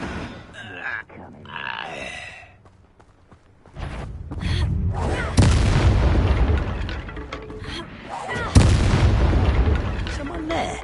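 Confringo blast spell explosions in Hogwarts Legacy: a deep booming burst erupts, followed by more heavy rumbling impacts and a second sharp blast, loud and close, with voices and grunts mixed in.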